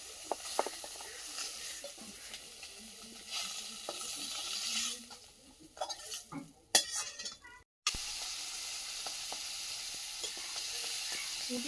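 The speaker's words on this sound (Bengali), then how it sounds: "পুঁটি মাছগুলো ভেজে নিয়ে পাঙাশ ট্যাংরা মাছটাও ভেজে নিচ্ছি" Pangas and tengra fish fry in a little oil with a steady, close sizzle and crackle, broken by a few clinks of utensils, then a brief silence before the hissing resumes.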